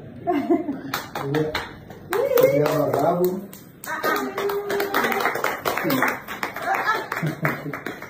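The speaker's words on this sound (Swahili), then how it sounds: "Makofi kwa mmoja wenu ndio bwana." An audience claps in short bursts around a speaking voice, the hand claps sharp and close, mixed with talk and brief laughter at a crowded gathering.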